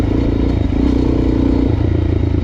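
A Suzuki DRZ400 trail bike engine runs steadily and close up, with a rough mid-range drone and faint clattering mechanical noise throughout and no talk.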